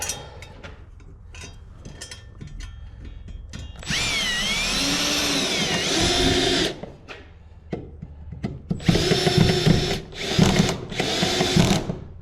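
Cordless drill boring into a wall while running power along an east wall, heard in two bursts of high whining spin with a short lull between, loud and close, no talk.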